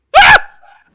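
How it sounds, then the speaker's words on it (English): A single sharp sneeze bursts out loud and close, then trails off into a short breathy tail, heard during a livestream of Phoenix Wright: Ace Attorney - Spirit of Justice. "but you were sneezing"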